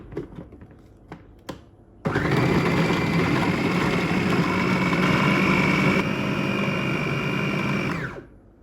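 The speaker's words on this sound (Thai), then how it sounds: "ไปปั่นนะคะ เตรียมเครื่องปั่นเรียบร้อยแล้วนะคะ" A blender grinding shrimp whirs loudly and steadily for about six seconds, starting abruptly and cutting off near the end, close by, with no talking over it.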